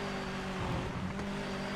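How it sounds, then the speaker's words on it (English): A car engine from the Project Motor Racing game holds a steady, droning hum throughout a short moment, moderately loud and unchanging, with no voices. "I can hear another engine."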